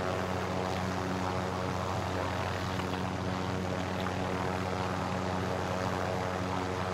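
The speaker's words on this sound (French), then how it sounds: "En plus, il y a un hélico là-bas." A helicopter in the video game Modern Warfare Warzone drones with a steady, low engine and rotor hum, constant and unchanging throughout, with no talk over it.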